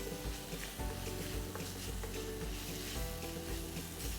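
Capsicum sautéing with masala in a hot pan for veg kothu parotta gives a steady, dense sizzle with faint stirring, close and continuous throughout with no speech.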